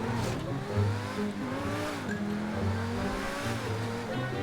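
A car engine drones and revs in the FiveM video game, a steady mid-pitched hum with shifting tone as the vehicle drives on, with no pauses throughout.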